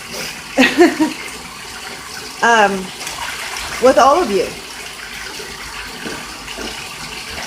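A pet goose splashes water around in a bathtub in short bursts of sloshing and spraying, heard close up while a person talks over the splashes.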